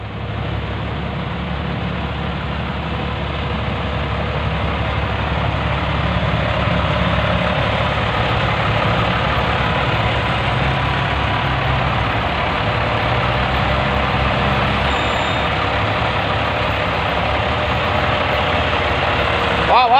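Farm tractor engine running under load while towing a stuck dump truck that was dumping soil, a steady heavy low-pitched drone close by, continuous and slightly building, with people talking over it.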